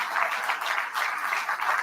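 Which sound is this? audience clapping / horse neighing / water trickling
audience clapping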